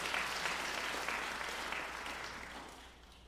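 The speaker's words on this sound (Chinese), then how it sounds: "我们用拍手热烈欢迎来陈牧师来" A church congregation claps during a Sunday service to welcome a pastor, a warm wash of applause that is fairly faint and tapers off toward the end.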